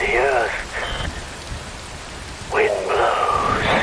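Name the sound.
rain falling in video game Metal Gear Rising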